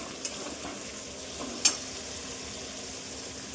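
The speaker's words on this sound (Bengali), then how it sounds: "এগুলো ভালো করে ভাজা হোক," Green chilies fry in a pan for chili chicken, a low steady sizzle running throughout with a couple of brief sharper crackles or stirring clicks standing out near the start and middle.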